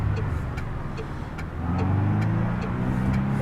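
A car engine revved by repeated pedal pumping, a loud close rumbling drone that rises in pitch and pulses with each press of the throttle.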